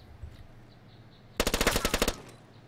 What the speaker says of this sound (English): I'm just gonna push up and shoot him.